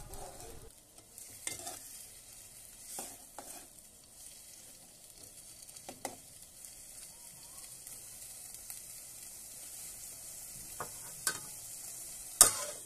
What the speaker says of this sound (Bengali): নাড়াচাড়া করার পর ভালো করে নাড়াচাড়া করতেছি